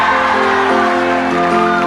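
A loud studio audience on a Filipino variety game show shouts and cheers in one sustained burst, with a tonal musical backing underneath.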